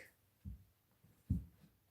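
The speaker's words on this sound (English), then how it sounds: "someone just banged on my door" Two dull, low thuds roughly a second apart, like someone banging on a door, fairly quiet and heard alone in a still room.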